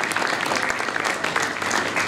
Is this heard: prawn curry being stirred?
no